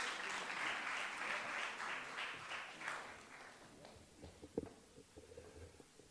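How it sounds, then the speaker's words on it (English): An audience at a public lecture by a deputy minister applauds, a soft, distant patter of clapping that fades after a few seconds into scattered small taps and room noise. "let's give him a round of applause"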